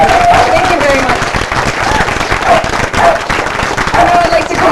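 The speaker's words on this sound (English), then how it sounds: "maybe just a general round of applause for all the councillors and all of our politicians" A crowd at a Pride flag raising at St. John's City Hall claps in sustained, dense applause for several seconds, with scattered voices and cheers mixed in.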